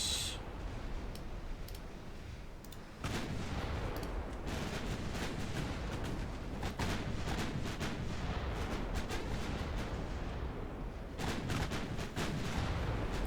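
Torpedo hits and gunfire on a warship in a naval battle video game, a dense continuous rumble of explosions and rapid cracking shots, steady and loud throughout with a sharper burst partway through.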